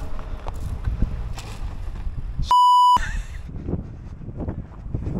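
A single loud electronic beep from a drone, a clean half-second tone, rings out amid gusty outdoor wind noise.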